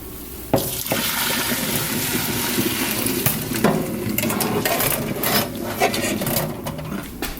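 Cold tap water running steadily over pork neck bones in a sink as they are rinsed one by one, a constant splashing hiss with occasional louder spatters as the bones shift under the stream.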